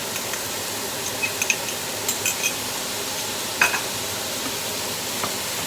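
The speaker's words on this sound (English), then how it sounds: "let me put my garlic in there now" Chopped garlic, about a tablespoon, frying in a pan over a medium burner, giving a soft steady sizzle with a few light clinks and stirring scrapes scattered through it.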